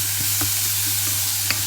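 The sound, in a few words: onion and garlic sizzling, stirred in a pan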